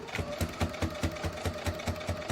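A domestic sewing machine stitches binding onto a quilt at a moderate pace, its needle thumping in a steady, even rhythm over a mechanical hum, close and clear.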